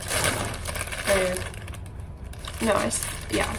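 Plastic crinkles and rustles up close in short bursts as a plastic bag is handled and folded for making plarn, with a voice speaking in the background.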